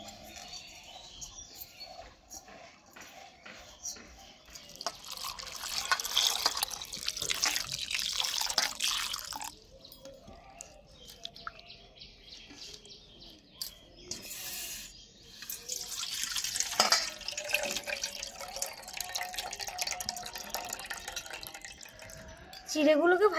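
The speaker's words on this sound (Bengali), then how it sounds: "এবার আমি চিড়েগুলোকে ভালো করে ধুয়ে জলগুলোকে ছড়িয়ে নেব।" Flattened rice (chira) is washed in water in a kitchen, with running and splashing water in bursts and drips, close by, and a voice briefly audible alongside.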